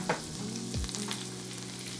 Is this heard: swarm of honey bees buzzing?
no